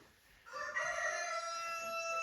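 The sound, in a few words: rooster crowing, imitated by actor in Easter play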